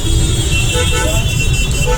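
Dense Mumbai road traffic with horns tooting, loud and continuous engine rumble close by, while a voice talks over the noise.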